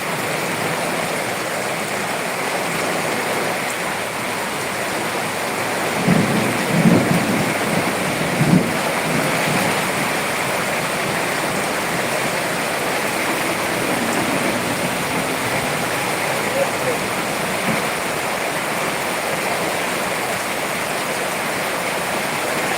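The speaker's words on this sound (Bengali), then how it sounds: "খুলনায় এই মুহূর্তে বৃষ্টি হচ্ছে" Steady, heavy rain hisses throughout during a thunderstorm in Khulna, with a few low rumbles of distant thunder partway through.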